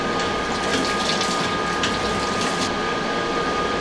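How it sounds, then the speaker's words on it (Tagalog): Water from a Jetmatic hand pump gushes and splashes steadily, a continuous loud rushing flow close by with no talking. "Kaya ito munang gripo ang gagawin ko, yung Jetmatic."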